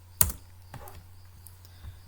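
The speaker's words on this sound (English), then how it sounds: "press enter key in the keyboard" A single sharp keypress on a computer keyboard, the enter key striking close and clear, followed by a few faint softer taps over a low electrical hum.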